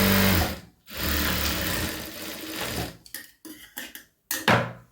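A sewing machine runs a quarter-inch stitch along a blouse side seam: a close, steady whirring hum for a few seconds, then short stop-start bursts of stitching.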